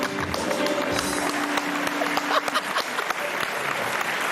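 A studio audience on a Pakistani TV game show claps steadily in a continuous, moderately loud round of applause, with a faint voice briefly beneath it.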